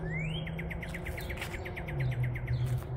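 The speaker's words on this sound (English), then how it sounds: "And the beautiful sound of birds singing, that's the best." Birds sing among cedar trees in spring, a rapid series of thin chirping notes repeating throughout, moderately near, over a low steady background hum.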